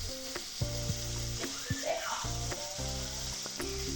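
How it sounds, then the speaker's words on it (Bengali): Boiled flat beans with garlic and green chili stir-fried in a pan, giving a close, steady sizzle with spatula stirs under a repeating musical tone. "সেগুলো দিয়ে ভালো মতো নেড়ে চেড়ে ভেজে নেব"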